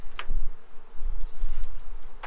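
A honey bee swarm being transferred produces a dense, continuous buzzing drone close by, with a few louder individual bees passing briefly near the start and end.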